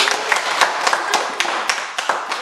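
Classroom of pupils clapping together in a quick, uneven burst of close handclaps and taps lasting a couple of seconds.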